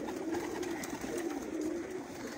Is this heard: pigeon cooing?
yes